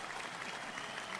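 Brief, steady applause, a dense wash of clapping with no clear individual claps, offered for a WNBA champion head coach.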